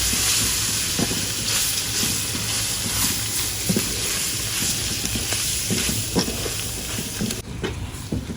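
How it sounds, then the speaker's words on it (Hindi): Beef fries in a pan with ginger-garlic paste, chili, coriander, fenugreek and garam masala, a loud, steady close hiss and sizzle with frequent scraping clicks of a spoon stirring, and no one speaking. "अच्छी तरह से मसालों को भून लेंगे।"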